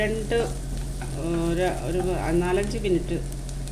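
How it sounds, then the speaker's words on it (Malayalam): Diced potatoes with masala sautéing in a pan for aloo methi sabzi, a steady soft fry under continuous talking, with a few faint stirring scrapes. "ഉരുളക്കിഴങ്ങും ഈ മസാലയുടെ കൂടെ നല്ലപോലെ ഒന്ന് വഴറ്റിയിട്ട്"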